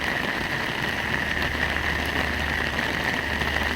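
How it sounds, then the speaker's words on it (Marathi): Heavy monsoon rain pours down in Nashik as a dense, constant hiss with no breaks, loud and close, alone without voices. "खूप जोरदार आणि मुसळधार पावसाला सुरुवात झाली आवाज देखील जोरदार येत असेल तुम्हाला"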